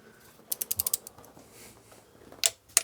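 A torque wrench tightens spark plugs to 8 newton meters on a Rover 75, giving a quick run of six or so sharp ratchet clicks, then two more isolated clicks a moment later, close and crisp.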